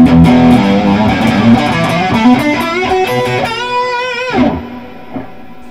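Electric guitar through a Tube Screamer overdrive and reverb, played as a series of loud, sustained overdriven notes and chords that end on a ringing bend and fade into a reverb tail.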